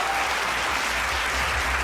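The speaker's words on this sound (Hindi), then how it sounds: "सो थोड़ा ज़्यादा ताली बजे के चाहिए।" A crowd at a Bhojpuri film awards show claps in a continuous, even wash of applause, brief and steady with no voices over it.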